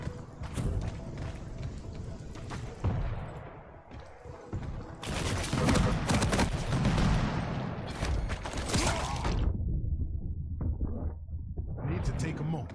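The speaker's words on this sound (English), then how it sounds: "The fireworks." Fireworks go off in dense, rapid volleys of crackling and popping bangs for over ten seconds. The bursts are loud and close, with brief lulls between clusters.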